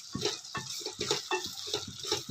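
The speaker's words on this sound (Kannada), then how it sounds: "ನೀರು ಹಾಕೋದು ಎಷ್ಟು ಬೇಕಷ್ಟು ಹಾಕ್ಕೋಬೋದು." Water splashes and trickles into a bowl of dosa batter in a home kitchen, heard as several short, close pours in an uneven rhythm with no talking.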